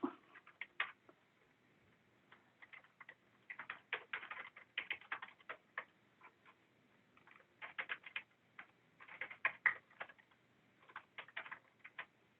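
Fingers type an email address on a computer keyboard in quiet, irregular bursts of light key clicks separated by short pauses, close and fairly soft with no talking.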